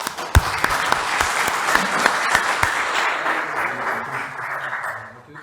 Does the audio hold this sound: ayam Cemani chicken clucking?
no